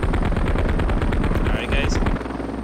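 Helicopter door gunners in the game Heliborne fire machine guns in rapid, loud continuous bursts up close, the rattling salvo filling the whole stretch with a slight drop near the end.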